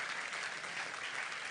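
A church congregation claps in a steady, even wash of applause that sounds faint and distant.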